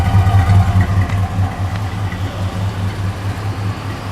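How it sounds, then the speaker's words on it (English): A car exhaust rumbles low and steady at idle nearby, a little louder at first, then settling into an even, continuous drone. "Exhaust sounds nice."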